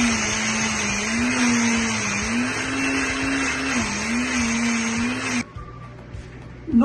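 An electric blender grinds koki bean paste with a loud, steady motor whine that rises and falls in pitch, then cuts off, leaving a quiet tail before a brief clatter.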